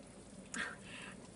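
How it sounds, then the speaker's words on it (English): Steady rain pours as a broad, even hiss, fairly faint and continuous, with a brief brighter patter in the middle and no talk. "And it is pouring with rain."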